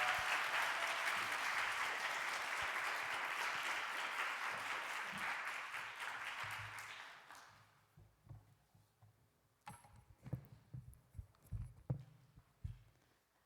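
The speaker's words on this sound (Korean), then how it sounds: "우리 여러분 큰 박수와 환호로 맞이했으면 좋겠습니다" Audience applause and cheering greet a guest speaker at a 2024 church young adults' talk on dating, loud and sustained for about seven seconds before fading into scattered claps and room noise.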